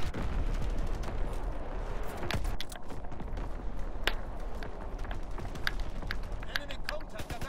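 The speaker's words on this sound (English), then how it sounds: "Incoming enemy artillery, get to cover" Artillery and gunfire in a Call of Duty Domination match form a dense, steady battle din, with sharp blasts and cracks scattered throughout and voices talking over it.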